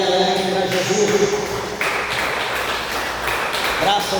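A church congregation claps together during a worship service, a steady, dense wash of applause over held musical tones, with voices mixed in.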